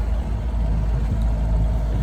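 A sailboat's engine runs steadily while motor sailing with the mainsail up, giving a continuous low, even rumble close by with no talk over it.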